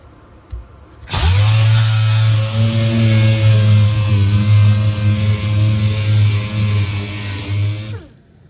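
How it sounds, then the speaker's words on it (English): A power sander starts abruptly on cured fiberglass and runs at a steady high whine with a strong low hum for about seven seconds, then cuts off. "I'm gonna do a little more sanding on it before paint."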